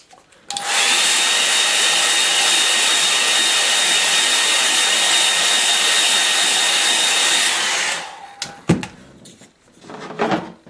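A hair dryer blows steadily and loudly for about seven seconds to dry a watercolour painting, then clicks off, leaving a few soft handling knocks and rustles.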